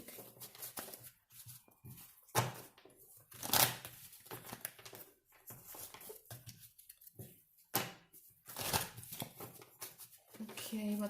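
Tarot cards being shuffled by hand, with repeated soft riffling and crinkly bursts at irregular intervals, fairly quiet and close, with some faint handling noise between shuffles.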